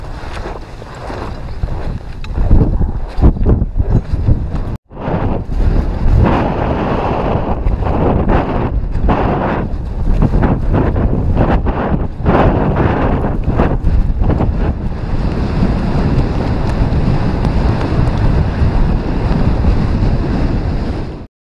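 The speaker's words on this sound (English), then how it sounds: "So that wind was nothing compared to what I told you about." Strong wind on Denali's Upper West Rib route buffets the microphone in loud, continuous roaring gusts that rise and fall for the whole stretch, with one brief dropout early on and no talking.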